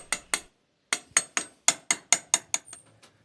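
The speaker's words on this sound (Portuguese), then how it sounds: "É bom você dar uma batida com o martelo para garantir que o vergalhão entrou todo." Sharp, ringing metallic hammer taps drive steel rebar into a concrete step: two quick strikes, a pause, then a steady run of about eight blows that fade into lighter taps, close and with no talk.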